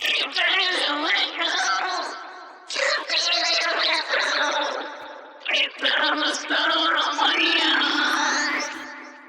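Processed vocals pitched up high, ring-modulated and drenched in delay, giving chirpy, squid-like Splatoon-style gibberish phrases in several bursts, loud and upfront with no other talk.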